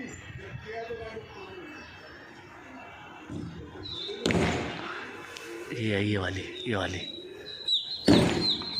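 Kalpotan and Hyderabadi pigeons cooing and chirping in a loft, with wing flaps and a few sharp bursts, while people talk nearby over steady background noise.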